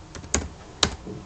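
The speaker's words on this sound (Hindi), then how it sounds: "यहाँ पे भी मैं कुछ टाइप करती हूँ" Two crisp keystrokes on a computer keyboard while typing code in the Sublime Text editor, close and clicky with a short pause between them.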